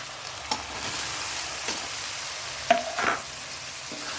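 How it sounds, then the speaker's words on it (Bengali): Onions with ginger and garlic frying in a pan, a steady low sizzle with a few soft stirring scrapes and clinks, close by and fairly quiet, no voices. "আদা দিলাম ওটা আদা রসুন এবার দিয়ে দেবো পেঁয়াজগুলো"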